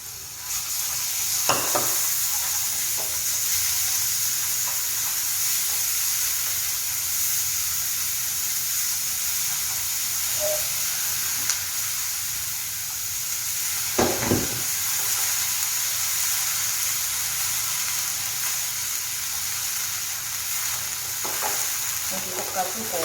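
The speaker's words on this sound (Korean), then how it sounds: "식용유 두르고 고기 볶아줄게요." Meat sizzles as it is stir-fried in cooking oil for Korean bibimbap, a steady close hiss of frying with occasional clinks and scrapes of a utensil against the pan.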